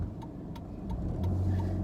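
Cars passing on a street during a drive, a steady low traffic rumble with faint regular ticking over it, moderately near and without talk.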